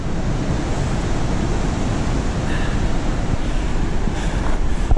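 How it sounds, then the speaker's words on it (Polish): Ocean waves breaking below coastal cliffs, a steady loud roar of surf with wind buffeting the microphone throughout and no speech. "Klify, ocean."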